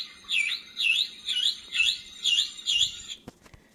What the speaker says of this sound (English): Wait a minute, is that a toy bird?